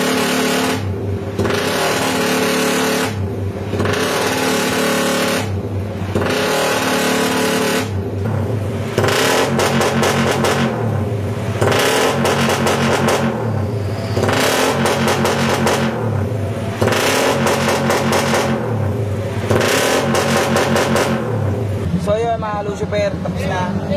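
A Raider Fi motorcycle with Malaysian concept tuning idles and then revs in repeated loud surges, each rise falling back to idle, close up with voices talking over it.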